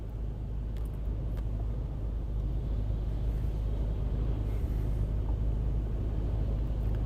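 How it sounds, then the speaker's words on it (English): Idling car engine on a slipway along the south coast of England during a storm, a steady low rumble holding at a constant level throughout, close and continuous with no talk. "Don't you worry, the car's already on."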